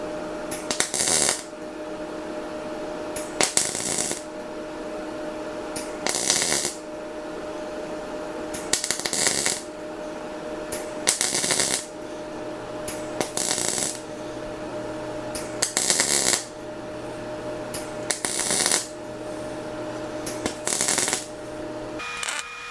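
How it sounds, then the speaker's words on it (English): YesWelder DP200 MIG welder laying a butt weld on steel patch panel for a 1963 VW, heard as repeated bursts of steady crackling arc, each a second or two long, separated by short pauses, close and fairly loud with no talk. "So let's try a butt weld now"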